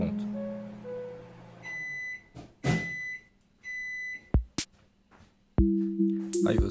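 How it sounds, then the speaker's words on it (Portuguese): A microwave oven hums, then several sharp electronic beeps sound in short bursts as it finishes, followed by a door clunk and faint background noise. "Quando ficar pronto, o micro-ondas vai fazer um barulho."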